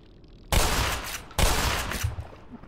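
Two loud, close shotgun blasts in the Black Mesa game, each a sharp burst with a ringing tail, about a second apart.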